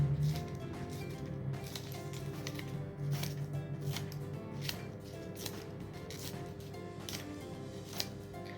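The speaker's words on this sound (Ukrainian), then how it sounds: "та починаємо їх різати дрібненькими шматочками" Scissors snip paper into small pieces, a run of quick, crisp cuts at close range, steady and fairly faint with no talking.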